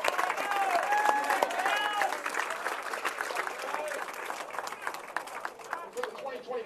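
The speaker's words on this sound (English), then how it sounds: "let's give Coldwater a nice round of applause." Crowd applause for the Coldwater team at a boys' high school basketball district final in a gym, broad clapping with cheers and an announcer's voice over it, gradually thinning out.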